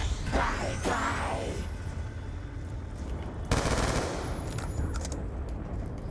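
Guns firing in Call of Duty Black Ops 2 Zombies on the Nuketown map, a few sharp shots early on, then a louder burst of rapid fire midway, close and clear over low game ambience.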